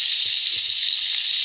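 Steady, loud frying sizzle from a Roblox kitchen-themed obstacle course, a continuous hiss running unbroken across the whole moment with faint low thumps beneath.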